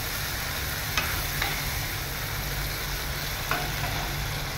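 Bitter gourd chachori frying in a pan, a steady soft sizzle with a few light scrapes and knocks as it is stirred, no voices over it.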